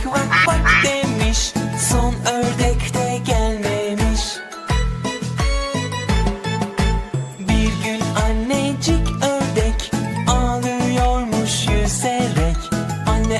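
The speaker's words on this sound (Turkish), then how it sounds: "Anne ördek vak vak demiş" Cartoonish duck quacks recur over a bouncy Turkish children's song with steady bass and bright melody, the quacks woven into the music at moderate loudness.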